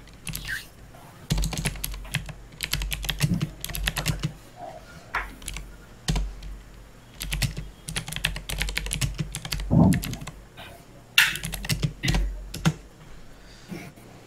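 Someone types in bursts on a computer keyboard, with close clicking clusters separated by short pauses over about fourteen seconds.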